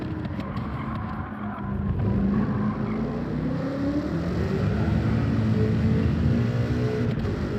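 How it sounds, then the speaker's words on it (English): A Chevrolet Camaro racing in Gran Turismo 7 at Blue Moon Bay, its engine droning steadily and rising in pitch as it revs through gears, loud and continuous with no talk over it. "This Camaro sounds amazing"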